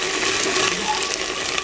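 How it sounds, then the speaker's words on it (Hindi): Water pours steadily for a moment into a cooking pot of browned onions and ginger-garlic paste for an aloo chicken shorba, a loud, close, continuous gush. "थोड़ा सा इसमें अब पानी डालेंगे"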